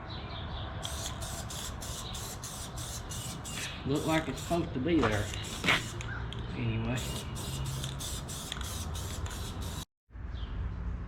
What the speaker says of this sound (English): Gotta spray paint her a little bit. I got some MS spray paint.